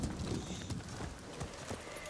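Horse hooves clip-clopping at a steady trot in Ghost of Tsushima, a continuous rhythmic patter of close footfalls over game ambience.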